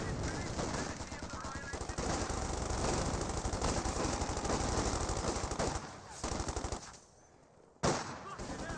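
Sustained MG34 machine-gun fire in the strategy game Company of Heroes 2: dense, rapid automatic bursts that run nearly unbroken for several seconds, loud and close, then drop off briefly before a final sharp shot.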